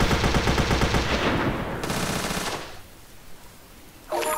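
Rapid video game gunfire rattles loudly in a dense continuous burst, then fades into a lower rumbling explosion tail, with a new sharp burst of fire at the very end.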